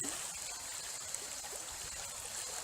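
Faint, continuous rush of the Yanıklar stream near Fethiye flowing over stones toward the sea, a steady watery hiss with no distinct splashes.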